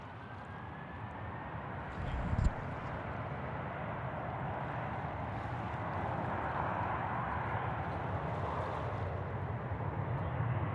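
A C-17 military transport at Sydney Airport gives off a steady, broad engine roar that holds level and swells slightly toward the end, with a brief thump early on and no voices.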